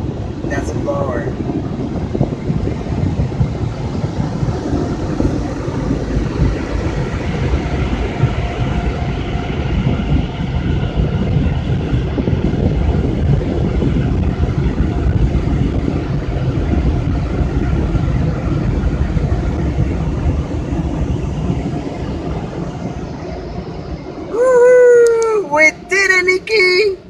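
Car wash air blowers roar steadily from inside a car going through an automatic wash, a loud broadband rush that lasts throughout, and a voice breaks in near the end.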